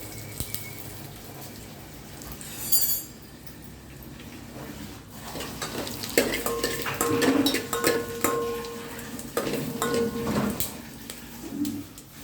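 Sun-dried red chillies crackling and popping in hot oil in a home kitchen, a scatter of sharp close crackles that grows busier midway, with faint clinks of a pan and no talking.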